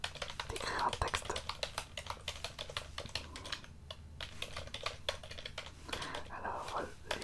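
Rapid, continuous keyboard typing as a text is finished in a quiet advertising-agency roleplay setting, close-up and crisp with dense clicking throughout, softly spoken voice faintly underneath.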